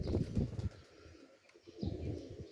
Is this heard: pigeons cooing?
yes